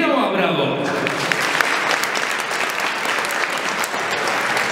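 Steady, dense applause from the audience at a charity children's fashion show in Poland, loud and continuous throughout, with a voice speaking over the opening moment.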